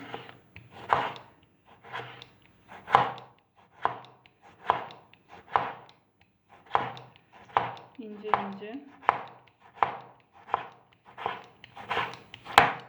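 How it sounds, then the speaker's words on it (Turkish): Rapid knife chops through a tomato on a cutting board, about two per second in an even rhythm, close and crisp, with a brief soft murmur midway. "Domatesimi doğruyorum."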